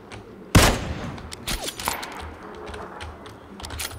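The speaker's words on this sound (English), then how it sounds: "Someone is shooting them" Gunfire in PlayerUnknown's Battlegrounds, one loud sharp shot followed by a scatter of fainter, more distant cracks and pops over low background noise.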